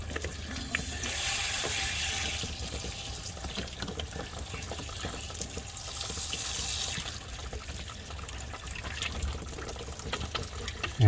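Water gushes and splashes steadily as a 1989–98 GMC K1500 heater core is back-flushed, a close, hissing stream that swells at times and carries no talk.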